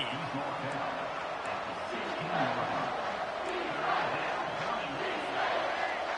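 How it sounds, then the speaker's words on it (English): A stadium crowd in the NCAA 25 college football video game roars as a broad, steady wash of cheering that swells a little at times, running under a play-by-play commentator talking throughout. "This crowd knows when to bring it."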